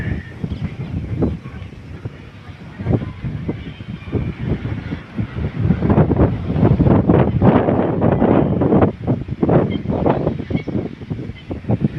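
Strong gusting wind sweeps over open farm fields before rain, buffeting the microphone in loud, uneven surges that build and grow fiercer midway.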